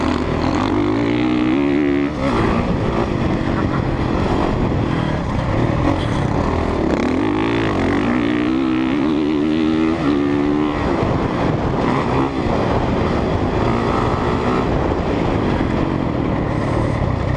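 Motorcycle engines on a motocross track at Aztec Raceway, with a 2017 Honda CRF 450 and a nearby two-stroke dirt bike, rising and falling revs loud and close under continuous wind buffeting for the whole stretch.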